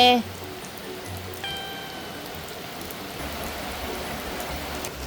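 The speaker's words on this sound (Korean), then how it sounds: "공키야 비가 너무 많이 와?" Heavy rain falls outside as a continuous, even hiss filling the whole span. A faint voice-like tone briefly rises above it early on.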